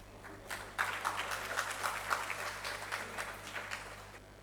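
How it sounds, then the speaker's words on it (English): Faint, distant audience applause at the close of a university Three Minute Thesis competition during Research Week 2024, a steady patter of many hands clapping for several seconds. "Let's once again give a big round of applause to our moderator, judges, winners, participants for making this session an incredible success."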